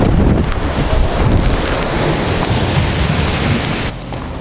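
Strong wind buffeting a microphone outdoors, a loud continuous low roar and rumble that drops off abruptly near the end, with no talk over it.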